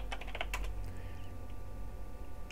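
Rapid computer keyboard typing of a chat command in Entropia Universe, a quick close burst of clicking keys over a steady background hum, with no talk.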